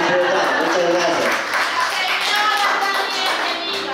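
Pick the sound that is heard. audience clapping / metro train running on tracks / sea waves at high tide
audience clapping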